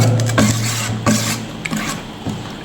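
Thick mango pickle being stirred and mixed with a ladle, giving close, repeated rasping scrapes and sloshing rubs in an irregular rhythm, with no talk.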